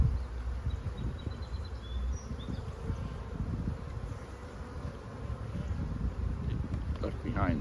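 Honeybees from an opened nuc hive buzz close and steadily, a dense droning hum with brief rustles and handling knocks.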